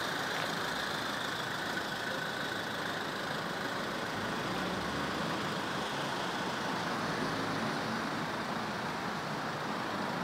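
Steady, even idle of a Toyota Corolla Verso 2.2 D-4D diesel engine, a low continuous hum heard close up with no voices, unchanged for about ten seconds.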